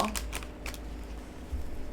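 A tarot card deck being shuffled, giving a few quick, crisp papery flicks and clicks that sound quiet and close against a faint background hush.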